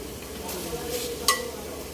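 Garlic, onion and ginger being sautéed and stirred in a pan, with a low steady sizzle, scraping of a utensil and one sharp clink of metal on the pan.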